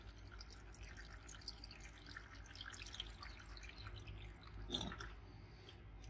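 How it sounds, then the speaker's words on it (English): Water is poured into a tray of potted tomato seedlings in a greenhouse, a steady soft trickling and dripping over low background rumble, continuous and fairly quiet. "So I'm going to put some water in here, just make sure they"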